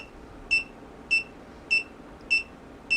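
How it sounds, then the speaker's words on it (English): Short electronic beeps from an Omnibus F4 drone flight controller buzzer repeat at a steady pace, five in quick succession, over a faint hiss. "I do wish it was a longer beep"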